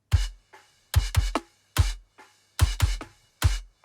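A close-miked kick drum from a poorly recorded metal kit thumps in a loose pattern of punchy, low hits with bright attack, some in quick doubles, ringing alone with no talk.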